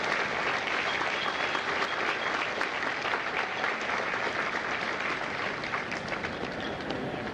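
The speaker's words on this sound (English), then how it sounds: "a round of applause for our recruiters and our combat instructors" A crowd at a Marine recruit graduation ceremony in San Diego applauds recruiters and combat instructors, dense sustained clapping from many hands, loud and even across the whole stretch with no talk.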